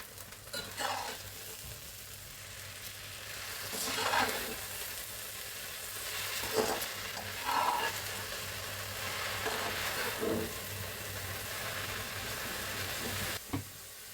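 Fresh jute leaves frying in a pan. A low, quiet sizzle runs throughout, broken by occasional scraping and clattering as they are stirred.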